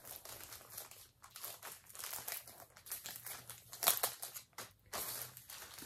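Sealed plastic packaging of a diamond painting kit crinkles and rustles in repeated close handling bursts, with one sharper crackle partway through and brief pauses between.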